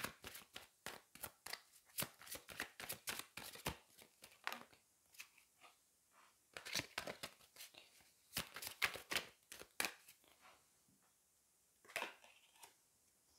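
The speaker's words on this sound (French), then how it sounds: "Allez, je vais aller prendre une autre carte." Tarot cards being shuffled and drawn, a quick series of sharp riffling flicks and slaps in bursts with short pauses, close and clear with no talking.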